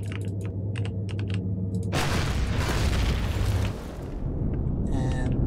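Structure blown apart in Empyrion - Galactic Survival, a sudden loud explosion erupting after some keyboard clicks and roaring broadly for nearly two seconds before cutting to a quieter rumble.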